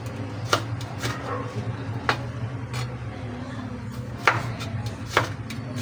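Knife chopping fresh tomatoes into large pieces on a cutting board, a series of irregular sharp thuds spaced about a second apart over a low background hum.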